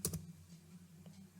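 A few quick keystrokes on a computer keyboard open the moment, then faint low hum fills the rest; soft and close with no voice.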